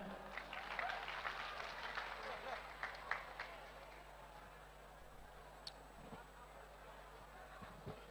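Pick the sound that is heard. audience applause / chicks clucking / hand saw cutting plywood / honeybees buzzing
audience applause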